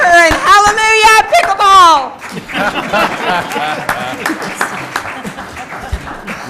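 Scattered audience clapping for a volunteer at a city council meeting, light and uneven claps mixed with a few chuckles, following a burst of raised speech at the start.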